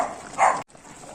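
A dog at home gives one short, close bark against quiet room noise, followed by a brief silence.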